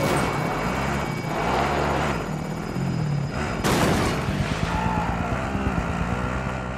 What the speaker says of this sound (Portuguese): Helicóptero saindo da AO